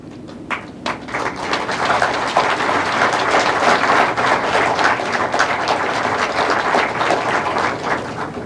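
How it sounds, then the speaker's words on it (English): Sustained applause from a crowd at a judiciary ceremony, steady dense clapping that swells after the first second and continues throughout without speech. "stand for a round of applause"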